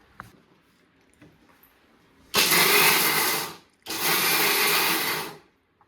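Kitchen mixer grinding peanuts with jaggery for laddoos, two loud whirring bursts of about a second and a half each separated by a short pause, after quiet handling noises.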